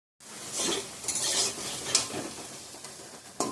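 Potatoes frying in a pan, heard as a close hiss of oil mixed with metallic scraping and clinks of a utensil against the pan, a few short stirring strokes over a few seconds, no talk.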